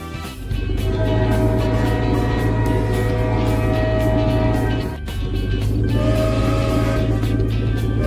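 A loud, close cartoon train rumbles steadily with a droning hum, briefly dipping in loudness partway through before resuming.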